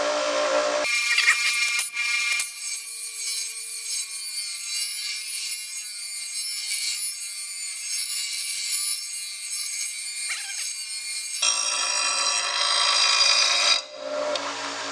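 A bench grinder sharpens a steel lawn mower blade, the blade passed back and forth against the wheel with a loud, continuous harsh grinding that starts abruptly, runs steadily for about ten seconds, then changes tone toward the end.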